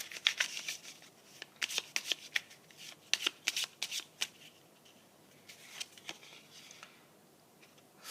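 A deck of tarot cards riffled and shuffled in repeated crisp bursts of papery flutter, close and fairly quiet, with short pauses between shuffles and no talking.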